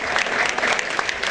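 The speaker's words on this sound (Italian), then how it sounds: "Fatevi un applauso" Audience applause at a charity association dinner, a short, steady burst of dense clapping from a crowd with a faint murmur of voices.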